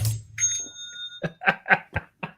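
A bell-like tone rings briefly, with long sustained pitches holding for a moment before several short, separate bursts of sound follow.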